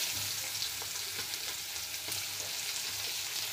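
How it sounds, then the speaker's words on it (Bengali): Onions frying in a hot pan with black cumin seeds, a steady dense sizzle with faint stirring scrapes, close and continuous with no talk. "এবার এটা পেঁয়াজটা ভেজে নিচ্ছি"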